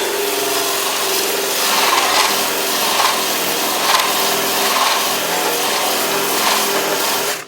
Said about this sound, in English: what I'm going to do now is trade from that to my fiber wheel on my electric drill